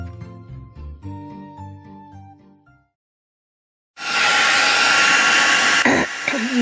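Heat tool blowing to melt embossing powder on a card, a loud steady rushing whir that starts abruptly after music fades and a short silence.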